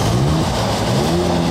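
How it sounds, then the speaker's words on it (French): A Maserati Levante driving past on a Paris road, a close, loud engine note rising slightly in pitch as the car moves by over about a second and a half. "Il y a un Levante qui passe sur la route là"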